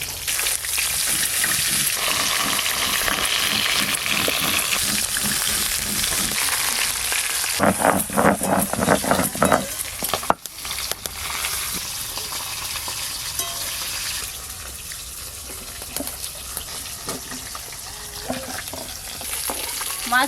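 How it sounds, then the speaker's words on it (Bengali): Tilapia fish frying in oil, a steady loud broadband sizzle running throughout, with brief clattering spatters and handling noises in the middle and a sharp knock near the halfway point. "মাছগুলো বেশ ভালো করে ভাজা হয়ে গেল"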